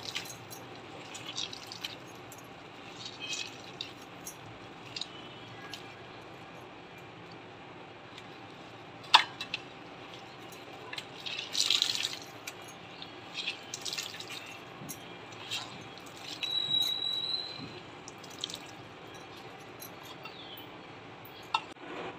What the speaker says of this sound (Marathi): आता भाजी आपण पिळून घेऊया